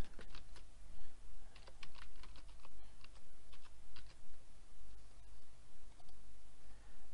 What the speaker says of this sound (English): I have to enter my WordPress.com username